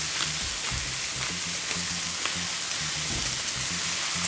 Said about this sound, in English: that sizzle is exactly what you want to hear